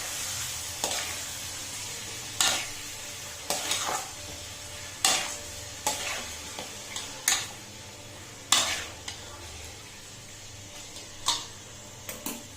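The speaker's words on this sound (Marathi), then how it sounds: "सगळं एकत्र करूया नीट. सगळ्या चिकनला मिरची लागली पाहिजे." Chicken and chili are stirred in a pan with a spoon. Sharp scrapes and knocks land about once a second over a faint low sizzle, close and clear, and no one speaks.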